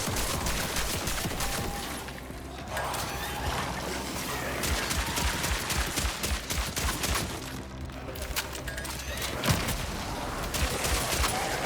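Gunfire in the video game Cronos: The New Dawn, with a shotgun blasting amid dense, continuous game combat noise and rapid repeated shots in a hospital section, loud throughout.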